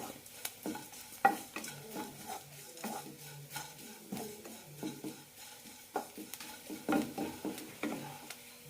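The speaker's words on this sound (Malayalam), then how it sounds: "ഹൈ ഫ്ലെയിമിലിട്ടാണ് ഇപ്പോൾ വറുത്തുകൊണ്ടിരിക്കുന്നത് തുളരെ ഇളക്കി കൊടുത്താൽ മതി" A spoon scrapes and stirs grated coconut roasting in a pan over high flame, with repeated irregular scratches and light clinks over a soft dry sizzle, close by.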